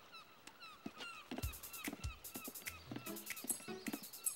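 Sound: seagulls calling

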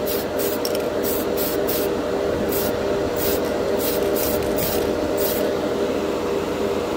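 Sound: Tamiya PS polycarbonate spray paint sprayed onto a plastic spoon

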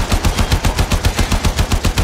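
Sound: gunfire in the video game Warframe

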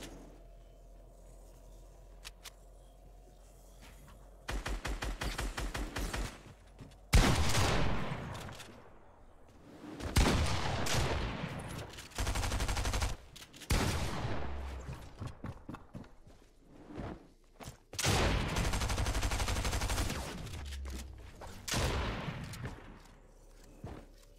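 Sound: gunfire

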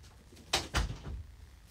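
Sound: door being shut

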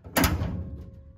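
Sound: shutting the door of a 1934 Chevy hot rod

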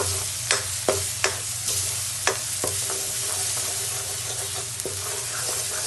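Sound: stirring spices into frying mixture in a pan

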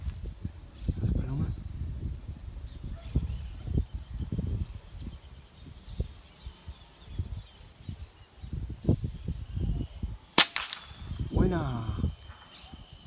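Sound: shot from a FOX PR900 air rifle while hunting

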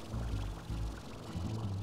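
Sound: filling up water in Slime Rancher video game

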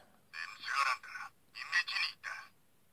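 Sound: phone ringing

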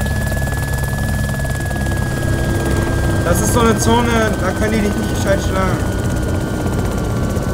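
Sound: helicopter rotor and engine in video game DayZ

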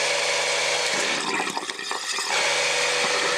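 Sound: water draining from cold tap at bathroom sink

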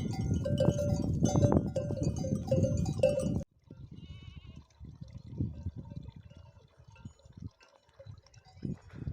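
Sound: sheep bleating

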